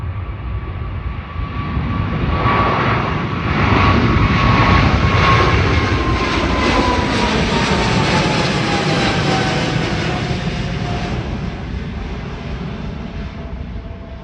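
A PIA Boeing 777 jet takes off from Toronto, its engines roaring loud and close with a rising whine that swells and then slowly recedes as the aircraft climbs away.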